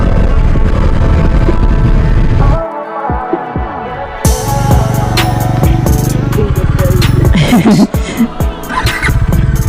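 A motorcycle engine idling and warming up after a cold start, its steady throbbing rumble loud and close, with a brief drop partway through before the engine note returns along with some handling noise.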